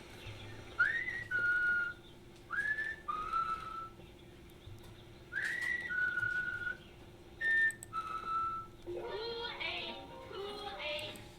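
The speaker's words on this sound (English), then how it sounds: "Johnny is walking down the street, and he lets out an errant whistle" A whistled tune from a 1960s Kool-Aid commercial, several short two-note phrases rising then settling, repeated with gaps, then fuller music near the end, slightly distant and thin as if replayed.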